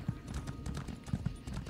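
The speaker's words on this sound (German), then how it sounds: "Ich kann mein Pferd rufen?" Horse hooves in The Elder Scrolls Online, a summoned mount clip-clopping in a few crisp, close, irregular hoofbeats over a soft game ambience.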